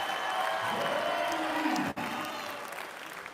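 A crowd at an elite men's 20-inch bike trials World Cup final in France claps continuously, the applause dense and steady, with a brief dropout midway.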